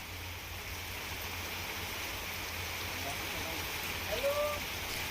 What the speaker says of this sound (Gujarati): ધોધમાર વરસાદની શરૂઆત થઈ છે